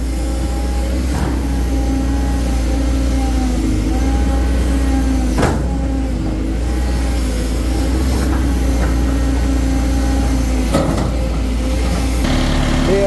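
A Caterpillar CAT 320D GC excavator with a four-cylinder engine runs steadily at a close, loud, even drone, with a few sharper knocks and clanks breaking through the constant hum while dredging a reservoir.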